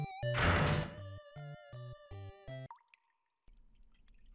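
Water dripping in the Changed video game, heard as a rhythmic series of clear, close plinks over a tonal game backdrop, ending in a watery splash before a quieter low hum.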